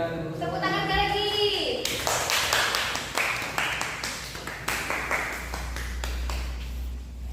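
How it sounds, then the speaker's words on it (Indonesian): Classroom applause as children and a teacher clap together, a burst of many hands starting abruptly and continuing in uneven, loose rhythm, following a voice and with some chatter underneath. "Tepuk tangan lagi."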